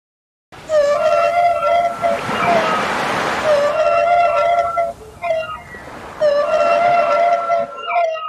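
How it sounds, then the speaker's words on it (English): A whale calls in long, wavering tonal moans over a wash of underwater rumble, loud and sustained in two broad phrases separated by a short dip. "Whale."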